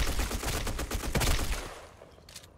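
A Type95 rifle fires in the shooter game Black Squad, a rapid burst of close, loud shots that fades out, followed by a short lull and a final faint click.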